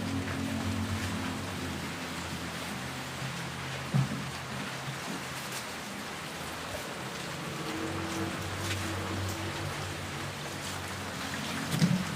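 Steady rain pours outdoors over a pond being drained and cleaned, a dense even hiss with a low rumble underneath and a couple of brief louder knocks, no voices.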